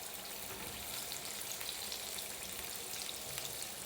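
Okra cakes frying in hot grease give off a steady, faint, even sizzle that holds unbroken throughout, with no voices over it.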